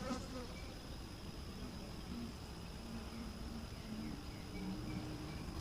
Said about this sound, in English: Good amount of bees.